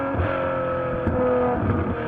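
A Ferrari F12 Berlinetta's engine revving, loud and close, with a sustained harmonic roar that rises and dips in pitch over about two seconds.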